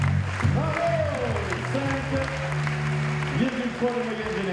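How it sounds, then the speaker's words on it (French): Audience applause at a CFC diploma ceremony, a steady patter of clapping running beneath a voice speaking over it throughout. "On peut les applaudir"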